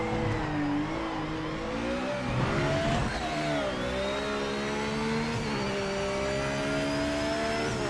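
A Cadillac race car in the video game Project Motor Racing revs and accelerates, its engine note rising and falling through gear changes for several seconds, steady and fairly loud with no talking.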